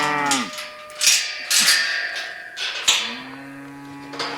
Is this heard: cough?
no